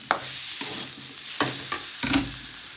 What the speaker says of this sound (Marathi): आता कढईमध्ये बटाटा टाकून घेतलाय